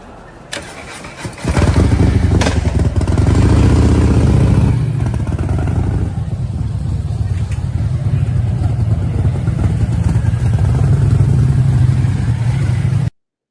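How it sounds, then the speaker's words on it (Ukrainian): A motorcycle engine cranks and catches, revs loudly nearby, then settles into a throbbing run that fades slightly as it moves off before cutting out, on a street in Kyiv. "Сідай на мотоцикл і їде"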